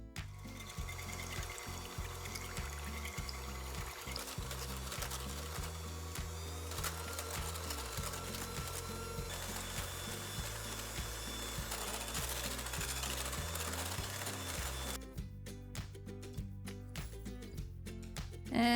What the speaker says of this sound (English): we're gonna add our cream to this bowl, and then we're just gonna whisk it until the stiff peaks form